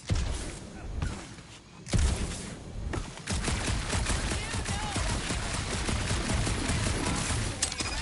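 Gunfire in the video game Guardians of the Galaxy rattles in dense, continuous bursts with thumps and impacts, loud and sustained over the game's background noise.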